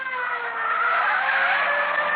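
Loud, sustained tire squeal as a dark Chrysler sedan with a dented left fender speeds off in a radio drama, a continuous screech with engine roar beneath it and no voices.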